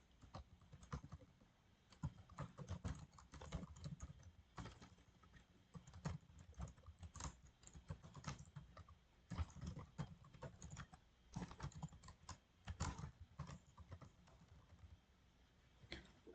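Keywords being typed on a computer keyboard, heard as quiet, close clicking keystrokes in quick uneven bursts, with brief pauses between them.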